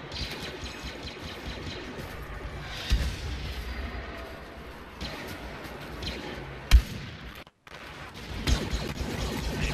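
Blaster gunfire from the Star Wars Battlefront beta, with occasional sharp shots and impacts standing out over a continuous noisy battle backdrop, one louder blast near the later part.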